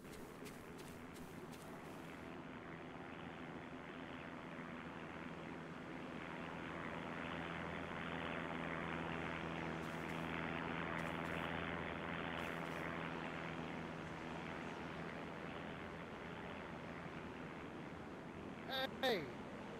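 A propeller plane drones steadily overhead in a Walking Dead survival game server, a continuous engine hum that swells gradually toward the middle and lingers, with faint talk underneath and a few brief clicks.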